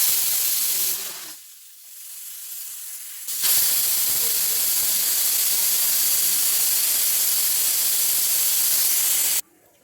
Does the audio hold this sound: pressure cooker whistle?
yes